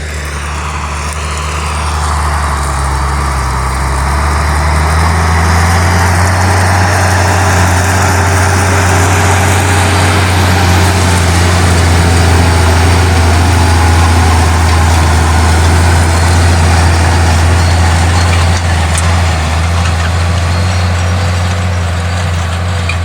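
A tractor's Andoria diesel engine idles steadily and loudly throughout, a deep continuous rumble with a constant low throb and no voices.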